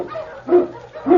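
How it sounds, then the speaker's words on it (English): King, an Eskimo lead dog, gives two sharp, close barks about half a second apart. "King, the swiftest, strongest of Eskimo lead dogs, blazes the trail through storm and snow"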